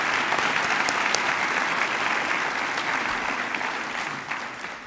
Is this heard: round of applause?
yes